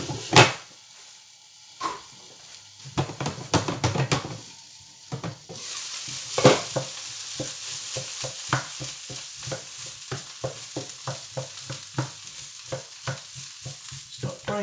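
Potatoes fry in a pan for bubble and squeak: a steady sizzle under repeated scraping and knocking strokes as a utensil stirs and breaks them up, loud and close, with no voices.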